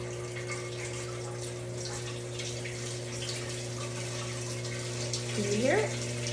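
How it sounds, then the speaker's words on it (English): Water pumped through an indoor hydroponic growing system trickles and gurgles steadily beneath a constant electric pump hum, with a rising, warbling tone briefly swelling near the end. "It's flowing all the way up through the system"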